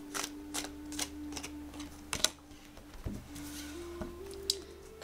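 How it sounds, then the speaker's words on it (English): Tarot cards being shuffled and drawn at a reading, a run of quick crisp riffling clicks and taps near at hand, fairly quiet, with no voice. "So I'm just going to pull a couple of cards for you"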